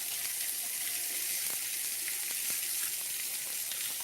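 Sweet onion sizzling in a hot pan, a steady close hiss of frying with faint scattered pops and no talking.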